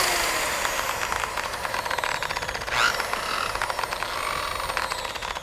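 A rotary polisher spins for headlight restoration, giving off a steady, close mechanical whir with a rattly texture and a brief swell partway through.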